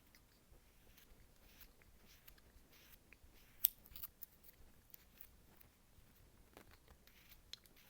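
A Flexcut knife shaving bandsaw marks off the back of a small wooden snowman carving, faint close scraping and crisp slicing strokes at an irregular pace, with one sharper snap in the middle.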